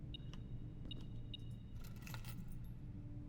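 Car keys jangle in the Blue Prince video game, a few short metallic chimes early on followed by a brighter cluster of rattling jingles, clean and close over a steady low game ambience.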